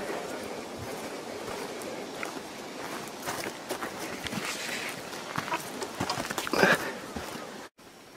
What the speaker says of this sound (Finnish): Kuuliko sen kopin? Askeleet.